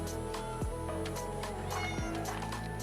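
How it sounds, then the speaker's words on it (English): Several cats meow close by, a few overlapping calls in quick succession over a short stretch, with no talking. "I'm being surrounded by cats."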